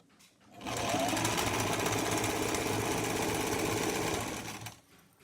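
A sewing machine stitches a 2-inch folded waistband on a palazzo, running in one steady, loud, fast burst for about four seconds before stopping, with no talking.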